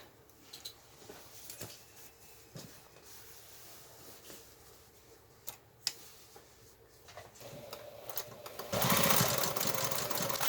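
A sewing machine stitches a denim shopping bag made from old jeans, its needle tapping in uneven bursts with clicks and pauses, then running into a steady, louder whirring stretch at the end.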